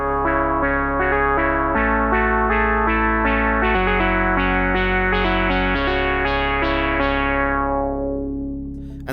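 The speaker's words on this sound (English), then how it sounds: "sent it to a reverb pedal, a delay pedal that I high passed and also low passed filtered" A sustained Behringer Spice synthesizer chord progression washed in reverb, high- and low-pass filtered delay and chorus, shimmering with echoing harmonics before fading out at the end.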